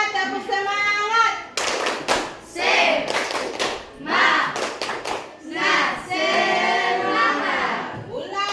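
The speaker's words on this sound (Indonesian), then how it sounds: "tepuk semangat" A classroom of schoolchildren performs a rhythmic patterned clap chant during a lesson: sharp, loud bursts of hand claps in quick groups alternate with children's voices chanting along, close and lively.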